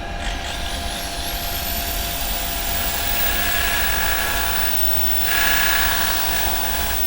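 Sanding a wooden Easter cross spinning on a woodturning lathe: a steady, loud mechanical drone with a whining hum and a hissing friction layer, swelling slightly near the end.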